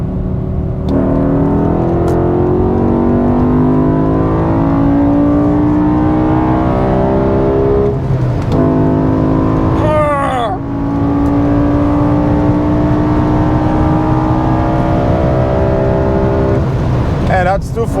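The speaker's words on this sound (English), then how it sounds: "now we're gonna do some flybys and a bit of driving on the Autobahn" A BMW M5 sports car with winter tires on the Autobahn, a loud sustained engine drone with rising revs carrying through the whole stretch, with a brief burst of other sound partway through, close and continuous.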